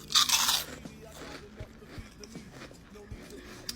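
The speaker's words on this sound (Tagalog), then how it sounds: "Now that is crunchy." A crunchy cheese crunch flavored puff snack gets a bite, a loud sharp crunch at the start followed by quieter chewing crackles.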